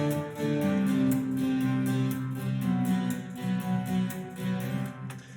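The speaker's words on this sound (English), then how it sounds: "You can have a mono reverb." Mono reverb on a musical phrase gives a washy, centred tail to sustained tones under a steady rhythmic pulse, moderately loud, with no talking.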